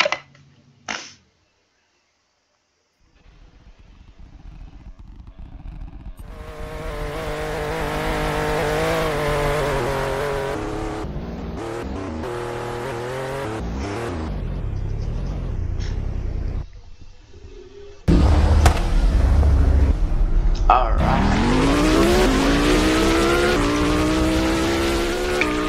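Engine of a BMW X5 racing in a driving video game revs hard and changes pitch as it accelerates, with gear shifts and tire squeal, loud and continuous after a quiet start.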